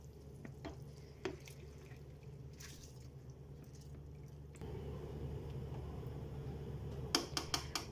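Soaked rice poured into a pot of simmering chicken yakhni pulao, with soft wet squishes and a few small splashes and clicks over a low bubbling hum, followed by a denser liquid sizzle and some sharper taps near the end.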